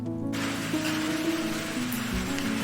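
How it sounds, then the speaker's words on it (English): Rain falling outdoors in a tropical setting, a continuous dense hiss of drops with a low rumbling undertone and no voices. "Unfortunately today it is raining."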